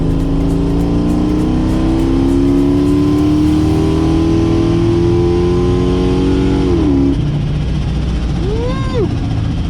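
Supercharged Dodge Dakota R/T with a smaller supercharger pulley, its engine loud and close as it revs hard under acceleration with a rising whine, then drops sharply as the throttle lifts near the end.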